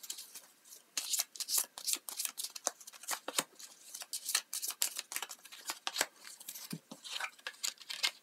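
Tarot cards being shuffled by hand, a rapid run of crisp riffling and flicking bursts with short pauses between them, close and fairly quiet with no talking.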